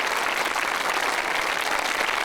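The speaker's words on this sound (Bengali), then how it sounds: "তাদের জন্য একটা করতালি দেওয়া উচিত।" A crowd at a magic show finale claps hard and steadily, a dense, loud wash of applause that carries on unbroken through the whole stretch.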